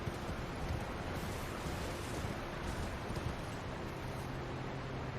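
A waterfall in the video game Elden Ring Shadow of the Erdtree roars as a steady, broad rushing wash of water, constant and fairly quiet, with no voices over it.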